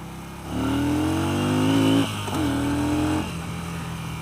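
A 2016 Yamaha Star Bolt motorcycle pulls away from a light in first gear, its engine revving up loudly in a rising drone, briefly cutting back at a shift, then climbing again before settling.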